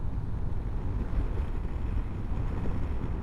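Blustery wind buffets the microphone on a bay, making a continuous low rumbling roar with no clear voices.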